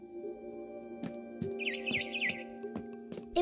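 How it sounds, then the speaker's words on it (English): A barn swallow chirps outside a window, giving a quick run of high, bright twittering notes with a few other short clicks and knocks nearby and a steady low hum throughout. "Then I heard chirping outside my window."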